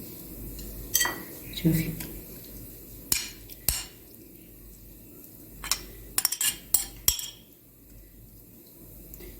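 A knife cuts chicken into squares, giving scattered sharp taps and clinks of blade on board and dish in short bursts, close but fairly quiet, with a brief spoken word among them.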